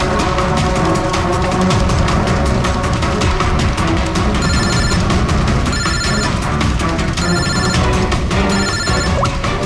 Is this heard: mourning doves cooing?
no